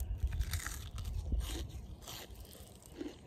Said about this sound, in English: I will be chewing my mouth open.